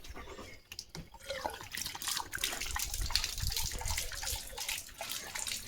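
A tap runs with water splashing and trickling unevenly, fairly quiet and close, with a few clunks near the start.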